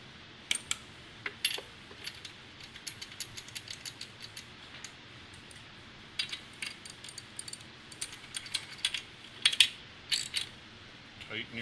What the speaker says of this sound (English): Tighten your spark plug